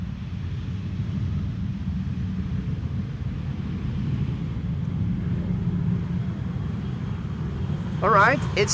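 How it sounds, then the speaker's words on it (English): A police helicopter at Schiphol airport gives a steady low rotor rumble in the background throughout, with someone talking briefly near the end. "Helicopter in the background. That's one of the police helicopters."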